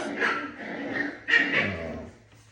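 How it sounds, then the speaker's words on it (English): Beagle puppies whimper and yip in faint, irregular bursts while wrestling playfully, with a louder cluster of whines near the middle. "you hear the puppies, I'm sure, in the background"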